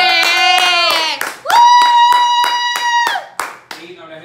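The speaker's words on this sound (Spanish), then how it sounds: "¡Un aplauso por" Steady applause with rhythmic clapping beats runs through the whole stretch at a burger-making competition, while a loud, sustained voice rises and holds over the top.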